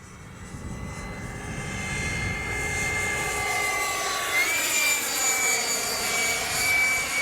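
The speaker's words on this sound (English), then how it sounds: "Man, she's a good flying jet." A Durafly Vampire V3 RC model jet makes a steady, loud electric ducted-fan whine as it flies by, with a rising tone and a continuous roar and no talking.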